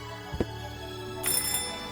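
Doorbell rung in the game Chaos on Deponia: a brief low buzz followed by a bright chime ringing out and fading, quiet and alone without talk.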